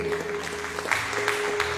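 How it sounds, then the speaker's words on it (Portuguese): A church congregation claps during a Sunday worship service, a moderate patter of hands over a sustained low musical drone, with a few sharper individual claps standing out. "Dá um aplauso ao Senhor Jesus."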